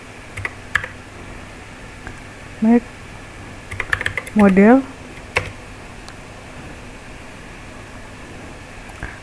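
Laptop or computer keyboard keys tapped to enter a php artisan command in Laravel, a few quick close clicks in short bursts against a steady hum of background noise, with soft room hiss between.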